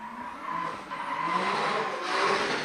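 Drift car with an 800-horsepower RB32 engine sliding through a corner at a Tauranga pro drift event, a loud continuous tire squeal with engine roar, steady and fairly close.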